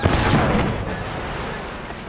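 A house blows apart in Battlefield 1 on the Sinai Desert map: a loud, close explosion hits at once, then a rough rumbling roar slowly fades away.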